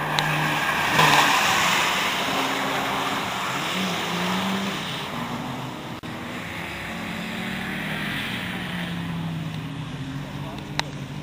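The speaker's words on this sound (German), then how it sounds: "Und der Manfred Vogt fährt als Dritter" A race car in an autoslalom event drives past at a distance in the G7 class, its engine droning and shifting pitch as it works through the course, with a faint announcer's voice underneath.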